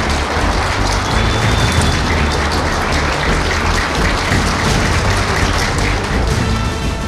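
Dense, steady applause fills a packed hall as Professor Haydarbaş enters, a loud continuous wash of clapping with no breaks and no voices over it.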